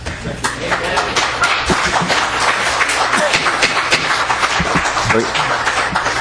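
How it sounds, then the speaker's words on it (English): Audience applause breaks out at a Minnesota legislative hearing on gay marriage, a dense, steady wash of many hands clapping that fills the room continuously, loud and close, with a few scattered thumps. "please keep applause to yourselves"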